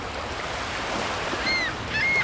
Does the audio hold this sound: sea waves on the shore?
yes